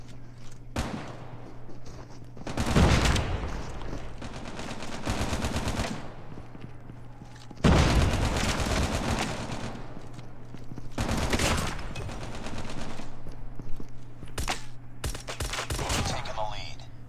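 Rapid bursts of automatic gunfire from Call of Duty Mobile, in Gulag gameplay, come in several loud clusters separated by quieter gaps, with one isolated shot near the end.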